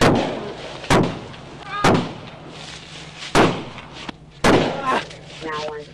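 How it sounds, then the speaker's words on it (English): Several loud gunshots from a pistol shotgun in an ambush on a deputy, four sharp blasts spaced about a second apart with ringing echoes, a voice briefly audible between them. "Shots are fired."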